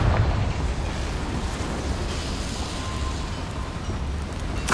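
A Confringo explosion spell goes off in the Hogwarts Legacy video game inside a small mine, a loud deep boom that rolls into a sustained rumbling roar lasting several seconds.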